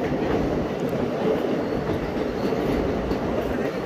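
A train climbs slowly up a hill through tunnels in Dima Hasao, pulled by two engines. Its loud, close, unbroken rumble of wheels and carriages holds steady throughout.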